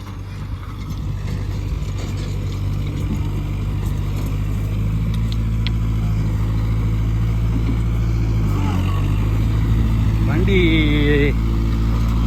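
A tractor fitted with a Lemken rotavator reverses in third gear, its engine a loud, steady close-up drone with mechanical rattling and a brief rising whine near the end.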